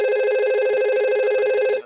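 A simulated VoIP phone in Packet Tracer network software rings with a steady electronic tone, one continuous loud burst that cuts off abruptly at the end.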